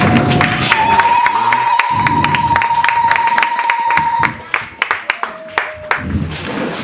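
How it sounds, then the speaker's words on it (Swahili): Steady clapping from a church congregation, dense and continuous at first, then thinning into scattered claps near the end, with a sustained tone running underneath. "tukaribishe kwa maombi kwa makofi"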